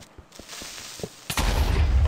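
A Minecraft creeper explodes in the video game: a few faint clicks and ticks give way to a sudden loud blast that rolls into a sustained rumbling roar, with no talking.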